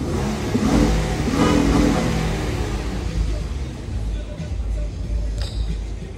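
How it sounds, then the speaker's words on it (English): A 2015 Acura RDX engine runs with a rough, steady mechanical roar and a slight rev at the start, close and loud with no talking. "Start the car."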